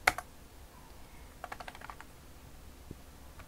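Computer keyboard keys are pressed for a Ctrl K, M shortcut: a sharp click at the start, then a quick run of about six light taps and one last faint tap, close and quiet with no voices.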